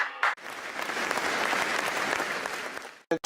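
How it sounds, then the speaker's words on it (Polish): An audience at a film awards gala breaks into sustained applause lasting about three seconds, steady and fairly close, with brief louder bursts at the start and end. "Naprawdę również wielkie brawa."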